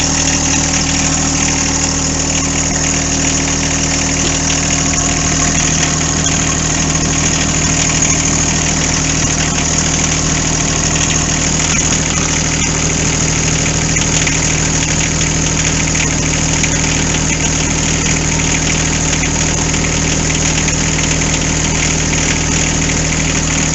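A new John Deere 4x4 tractor engine idles steadily and close, a constant low rumble with a vibrating mechanical hum and no pauses or voices.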